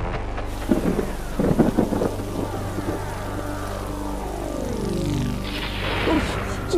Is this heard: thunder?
yes